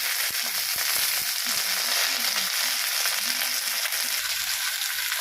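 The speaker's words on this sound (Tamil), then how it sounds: "இப்போ புதினா போட்டுடுவோம்." Mint leaves hitting a pan of sautéed onions, a loud steady frying sizzle with crackling bursts, heard close and alone with no voices.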